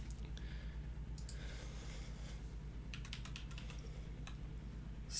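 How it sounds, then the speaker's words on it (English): Fast keystrokes clatter on a computer keyboard as a message is typed into a live chat, in short irregular bursts of clicks over a steady low hum, with no voices. "I'll type it here in the chat"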